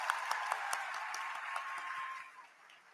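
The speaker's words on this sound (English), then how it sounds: "Let's give a round of applause to all the exceptional students sitting before us today." Applause from a graduation ceremony audience for the High Tech High School class of 2023, a steady wash of many hands clapping that thins and fades near the end, with a faint tone running beneath.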